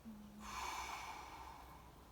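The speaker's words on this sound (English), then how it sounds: "And then breathe out." After the calf and hamstring are contracted, a person lets out one long, soft, airy exhale, close and quiet, with no talking.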